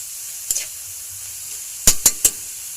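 Bitter gourd (ampalaya) sautéing with ground pork in a pan, a steady soft sizzle with a few sharp stirring clinks, three of them in quick succession near the end.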